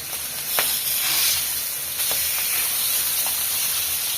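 Fish sizzles in a pan in a loud, steady hiss, broken by a few sharp crackles and pops scattered throughout; no talking.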